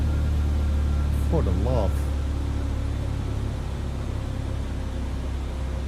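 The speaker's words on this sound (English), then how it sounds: "would you listen to those engines, guys?" Boeing 787-9 jet engines in Microsoft Flight Simulator 2020 produce a steady, droning low hum and whine that runs throughout, with someone briefly speaking over it.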